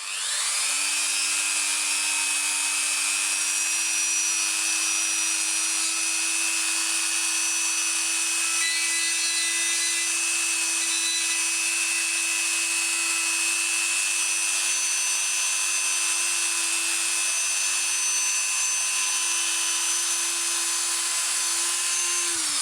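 A Dremel with 320 grit sands a small wooden bead in one continuous, steady high-pitched whine that holds an even pitch throughout, close and fairly loud, with no talking.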